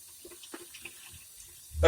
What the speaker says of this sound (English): And now I'm going to go get some water. Warm water would be preferred.